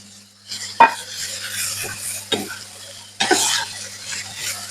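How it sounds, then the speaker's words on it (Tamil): Beans and curry chillies fry in oil while a spoon stirs them in a pan, giving a few distinct scraping strokes over a soft, continuous sizzle. "சேர்த்துட்டு இதையும் நல்லா கிளறி விட்டு கொள்ளுவோம்"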